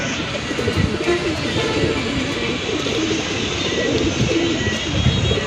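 Pigeons at a bird sale, including a red-eyed bird, coo continuously and close by in a busy, noisy setting, with the low warbling calls overlapping throughout.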